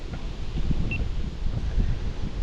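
Strong wind gusting over a lake around a small fishing boat, a low rumbling buffet against the microphone that swells and eases, with no voices.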